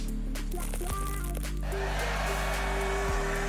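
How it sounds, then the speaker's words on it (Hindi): A stylist's blow dryer runs steadily while drying hair in a beauty salon, a continuous loud whooshing hum with a shift in tone partway through as the airflow changes. "स्टाइलिस्ट ने ब्लो ड्रायर से उसके बाल सुखाने शुरू किए"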